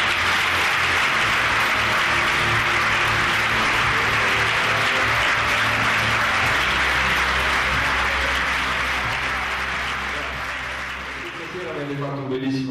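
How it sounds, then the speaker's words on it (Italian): A seated audience at a public speaking event gives a long, sustained round of applause after a speech, with a faint musical tone underneath, before a voice starts to speak at the very end. "un altro applauso."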